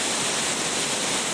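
A waterfall gives off a constant dense rush of falling water, even and unbroken, fairly close with no voices.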